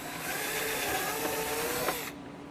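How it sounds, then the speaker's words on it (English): A power drill whirs steadily for about two seconds, grinding through the hull of a 1/6 scale Sd.Kfz 250 half-track model, then cuts off abruptly. "drill all 4 of the holes down through the hull."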